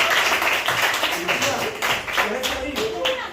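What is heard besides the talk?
children applauding in a school class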